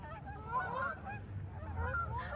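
Geese flying over a Toronto neighborhood honk in a loose, overlapping chorus of nasal calls, quiet and somewhat distant, over a low background rumble.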